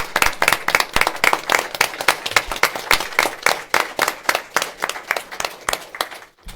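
A crowd applauds steadily at a board of commissioners meeting, sharp claps packed densely together at close range, the clapping continuing for several seconds before tapering off at the end.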